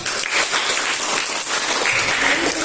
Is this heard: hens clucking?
no